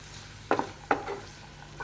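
A spatula stirs urad dal and spices frying in a pan on the stove. Two distinct scraping clinks sound close together over a faint, steady sizzle, followed by a lighter tap.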